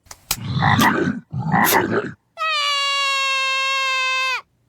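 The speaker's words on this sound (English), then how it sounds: "I caught a frog!" A cartoon frog gives a loud, sustained croak lasting about two seconds, coming right after two bursts of excited children's chatter.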